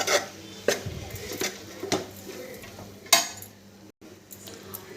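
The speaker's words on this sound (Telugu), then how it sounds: "ఇప్పుడు బొరుగులు వేసేసుకుందాము. కలుపుకుందాం బొరుగులు వేసుకొని." A spoon scrapes and knocks against a pan while puffed rice is stirred for ugani, several sharp clinks and rustling scrapes at an uneven pace, close and fairly loud, with no talking.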